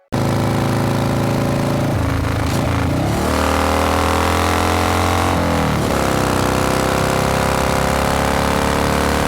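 An old motorbike engine, a cartoon sound effect, idles with a steady loud mechanical chug, revs up twice with rising whines, then settles back into a continuous rough drone.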